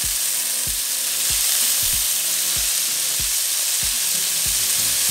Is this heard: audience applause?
no